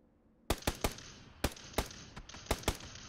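Sharp gunshots from PUBG, an online squad shooter, ring out in two bursts of three, then single and paired shots, each crack loud, near and cleanly separated against a quiet background.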